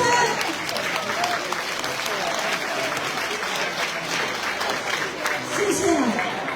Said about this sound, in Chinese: 热烈的掌声